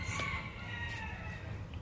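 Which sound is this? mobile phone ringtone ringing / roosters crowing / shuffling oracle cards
roosters crowing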